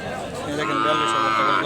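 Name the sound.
cow mooing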